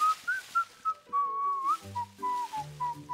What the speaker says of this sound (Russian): Мелодия, которую ты насвистывал, очень похожа на ту, которую дедушка играл на гитаре.